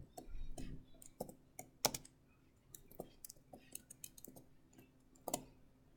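Computer keyboard keys tapped in an uneven scattering of light clicks, quiet and close, with a few sharper louder strokes among them.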